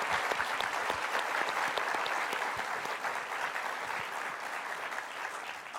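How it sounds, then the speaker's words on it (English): An audience at a Cisco closing session gives a round of applause, a dense, steady clatter of many hands clapping at moderate distance throughout. "can we just give them a big round of applause for what they've done?"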